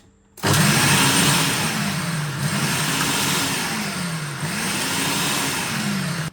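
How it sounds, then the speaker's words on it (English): A blender whirs steadily on dry protein-ball ingredients under its lid, a loud, close, continuous motor drone that starts abruptly, holds for about six seconds with a slowly wavering pitch, then cuts off. "I'm going to put the lid of the blender on and just give the dry ingredients a bit of a mix"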